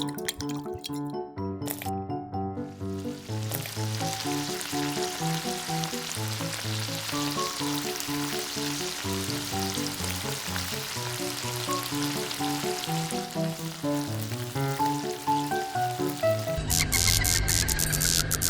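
Oil sizzles in a miniature pan while tiny octopus and cheese buldak noodles cook, a steady frying hiss running under continuous melodic music, with a sharp brighter burst near the end.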